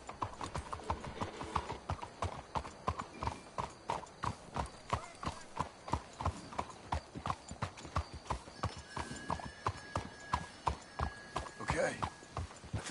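Horse hooves clip-clop steadily in Red Dead Redemption, a brisk rhythmic trot of several horses with a whinny near the end, while characters talk over it.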